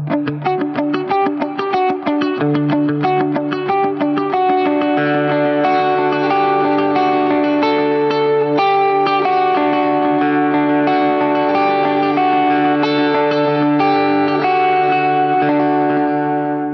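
An electric guitar played through a Line 6 POD Go with reverb set to a longer pre-delay rings out in a steady run of picked notes and chords, loud and close, the tails blooming into a lingering wash with no voice.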